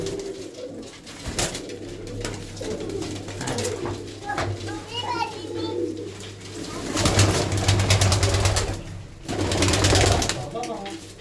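Pigeons coo in low repeated murmurs under frequent nearby talk, with children's voices and a steady hum in the background.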